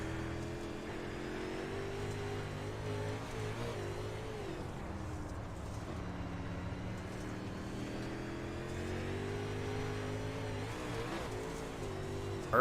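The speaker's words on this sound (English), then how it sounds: "Just listen into this throttle." A UMP modified race car on a slick dirt track holds a steady, moderately distant engine drone with gentle throttle swells and no sharp revving, continuous throughout.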